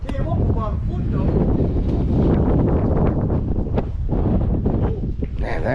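Strong wind blasts across the microphone outdoors on a fishing boat, with a loud, continuous, roaring buffet that fills the whole clip and scarcely eases.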